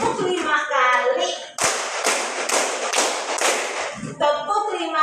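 Children in a classroom clap their hands together in a counting clap game, a burst of five sharp, loud, evenly spaced claps following a teacher's spoken count, with her voice before and after.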